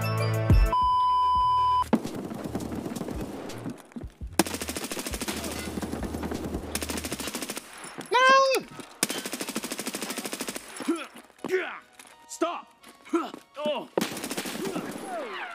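Gunfire from the video game Escape From Tarkov: loud bursts and single shots alongside electronic beeps and game sounds, with excited voices talking over parts of it.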